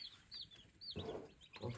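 Chicks chirp in short, high peeps, with a louder burst of clucking and rustle nearby, all faint and close in a quiet brooding space.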